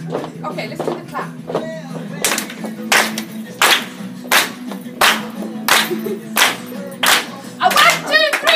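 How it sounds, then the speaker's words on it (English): Workshop audience clapping together in a steady rhythm, sharp loud claps landing roughly every second over a low background hum, with a voice calling out among them. "Okay, let's do the clap."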